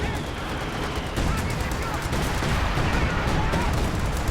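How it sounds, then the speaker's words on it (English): A time on target artillery barrage in a multiplayer video game: heavy, continuous thudding explosions and rapid gunfire pile into a loud, dense roar that carries on without a break. "Time on target artillery is about to fall on this 50 cal."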